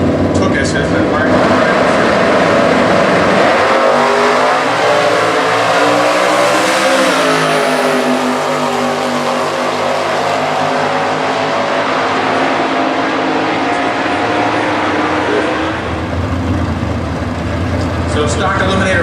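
A stock eliminator drag race car at the 2015 US Nationals, owned by Anthony Bongiovanni, its engine roaring loud and close with a rising tone that climbs, then holds a sustained high-revving drone to the end.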